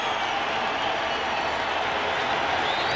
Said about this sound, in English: And this crowd alive now.